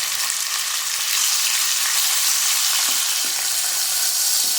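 Small cubes of boneless chicken sizzle steadily in a hot pan, a loud continuous crackle with occasional soft stirring scrapes.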